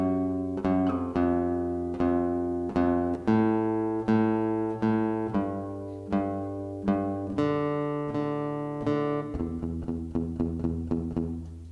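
A looped bass line with a beat plays alone, plucked notes repeating in a steady rhythm with a rising and falling pattern, clear and moderately quiet.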